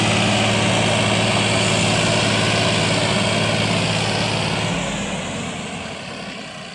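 A Massey Ferguson 9500 tractor with a seven-foot rotavator runs its engine in a steady, loud, close drone that holds evenly before easing slightly lower and quieter near the end, with no talking.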